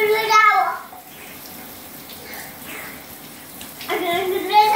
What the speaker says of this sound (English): Oh, I'm going to do the shower.